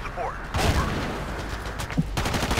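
Gunfire in the video game Battlefield 2, dense bursts of shots and explosive blasts filling the battlefield mix, loud and continuous with brief louder cracks near the start and toward the end, and some talk mixed in.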